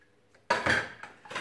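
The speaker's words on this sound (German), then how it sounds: "Da ich aber eben das Geschirr noch gerne spülen wollte vorher" Dishes being washed by hand clatter close by: plates and cutlery knock and clink in short bursts, with running water and rinsing noise between them.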